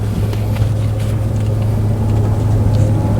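A 2005 Suzuki Aerio facelift hatchback on a test drive, heard from inside as a loud, steady engine drone and road rumble with no talk.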